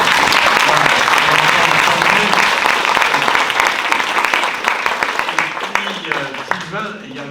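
An audience applauding at a cultural project presentation in a care residence, dense sustained clapping that thins and fades toward the end as a voice begins speaking.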